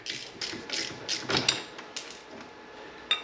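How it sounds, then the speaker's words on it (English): A ratchet undoes a bolt while a Can-Am Ryker driver commander board is fitted, giving a quiet series of irregular clicking strokes and short metallic bursts, close up with no talk. "All you need to do is undo this bolt"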